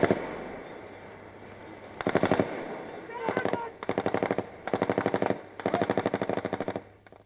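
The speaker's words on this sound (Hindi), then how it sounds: "मेंढर में जब पाकिस्तान की ओर से फायरिंग हुई तो कैसे भारत ने भी जवाब दिया है" Bursts of automatic gunfire in a ceasefire violation at Mendhar on the India-Pakistan border, four or five rapid rattling volleys each lasting under a second, separated by short pauses over a steady low background.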